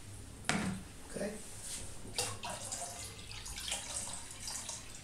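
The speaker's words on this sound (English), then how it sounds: "we add more water" Water pours into a bottle fitted with a water level indicator and alarm, a faint steady splashing trickle with a few soft knocks, low and continuous throughout.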